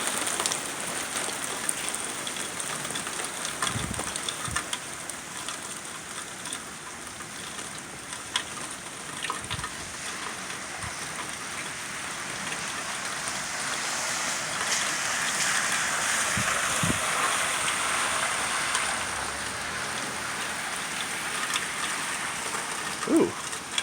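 Heavy storm rain pours steadily onto surfaces in an alleyway, a dense, continuous hiss of drops with a few scattered louder splashes and thumps, with no voices.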